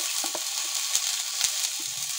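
Onion, ginger and garlic paste frying in hot oil as part of an Odia fish curry, giving a steady soft sizzle with a few faint stirring clicks and pops, close and even throughout.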